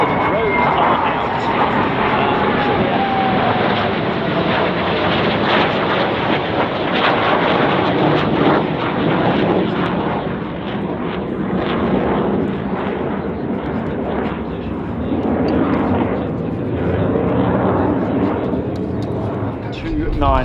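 A military Boeing 737-based aircraft flies low at the Australian International Airshow, with a loud, continuous roar of jet engines that swells and fades slightly, while a commentator talks throughout.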